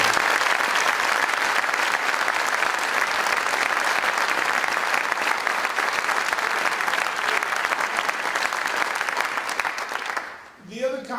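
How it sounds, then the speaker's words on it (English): Loud, sustained applause from an audience at Governor Cuomo's UB2020 approval event, a dense wash of clapping lasting about ten seconds before it fades and a voice breaks in. "And let's give them another round of applause."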